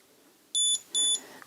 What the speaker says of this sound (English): when you get to 6 feet, it gives you a double beep